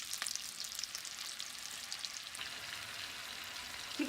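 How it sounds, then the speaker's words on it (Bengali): Marinated chicken pieces hit hot oil and butter in a pan, giving a steady, fairly loud sizzle with fine crackling spatter throughout and no voices. "এবার আমি এর মধ্যে দিয়ে দিচ্ছি সেই ম্যারিনেট করা চিকেনটা।"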